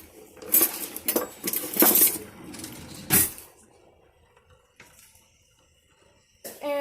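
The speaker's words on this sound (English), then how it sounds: "Okay, so I'm just going to mix this up a little bit." Spanish rice with half a stick of butter stirred in a cooking pot: a run of scraping, clinking utensil-on-metal strokes up front, then quieter intermittent taps and a final brief clatter, no talking.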